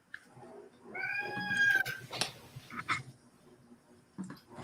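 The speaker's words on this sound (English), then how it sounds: "Kitty." A cat lets out a long, rising then falling meow up close, followed by a few shorter, fainter chirps and mews against a quiet room.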